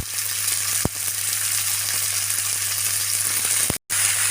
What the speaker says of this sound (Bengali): আমি এখানে থোড় আর চীনা কচুর ডাঁটা, আলু কেটে নিয়েছি, আমি তেলের উপর দিয়ে দিলাম